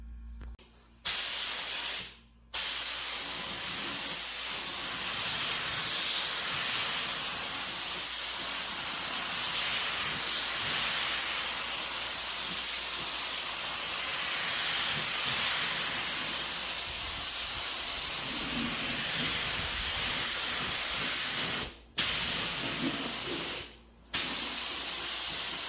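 A spray gun hisses out long, steady bursts of red pearl paint over black, a continuous close airy spray with brief pauses near the start and end.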